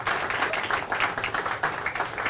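An audience at a live event in Jerusalem applauds, dense and steady clapping from a crowd that holds at a fairly loud level for the whole stretch.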